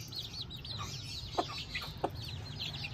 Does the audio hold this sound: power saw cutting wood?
no